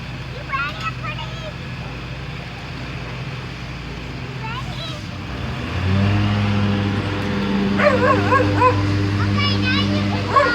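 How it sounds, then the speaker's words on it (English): A police dog near a police car barks in several separate bursts, with a couple of yips, while people talk loudly over and around it. "And there's Taco, the police dog."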